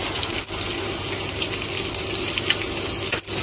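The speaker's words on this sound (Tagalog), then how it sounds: "lagyan natin siya ng tubig" Water gushes steadily into a cooking pot of squash, a continuous splashing pour close by with a couple of brief breaks.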